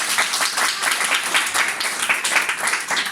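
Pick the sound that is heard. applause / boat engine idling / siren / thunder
applause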